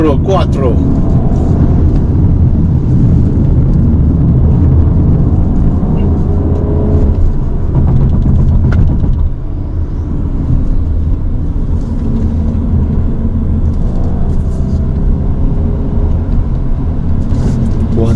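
A 2019 Audi A5 Sportback quattro on the move, with a loud, steady engine drone and road rumble heard inside the cabin and a person talking over it the whole time.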